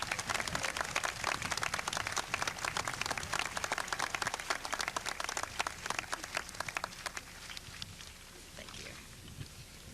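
Dense, crackling clapping from an audience at the 1997 Bellefontaine High School commencement, sustained for several seconds before thinning into scattered claps.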